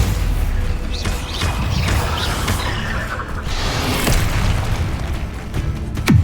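Bombarda spell blasts in the video game Hogwarts Legacy, heavy booming explosions amid continuous loud combat noise, with a sharper burst near the end.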